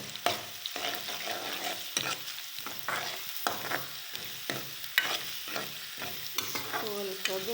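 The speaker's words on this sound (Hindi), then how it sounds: "अब मैं इसमें ये अदरक लहसुन का पेस्ट डालूंगी।" Ginger garlic paste sizzles and spatters in a hot pan while a spoon stirs and scrapes in irregular strokes, close and steady.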